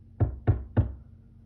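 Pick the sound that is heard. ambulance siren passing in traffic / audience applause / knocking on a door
knocking on a door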